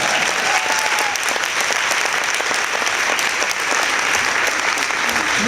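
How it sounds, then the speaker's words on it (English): Audience at a Bay Area community event gives a sustained round of applause, a loud, dense, even wash of many hands clapping from start to end with little talk. "anyone in the audience that's a parent is going to give yourselves a round of applause"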